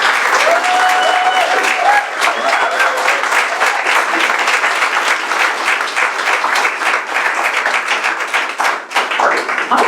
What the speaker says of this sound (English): A massive, massive round of applause to our panel.